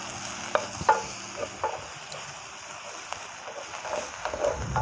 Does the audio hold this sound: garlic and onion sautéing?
yes